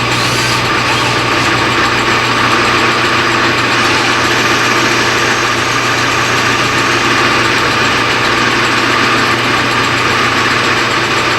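Lathe cutting a 5-degree taper with a loud, continuous high-pitched machine whine and a rattling gear drone that holds steady from start to finish.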